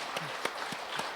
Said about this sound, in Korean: 우리 박수 한번 합시다.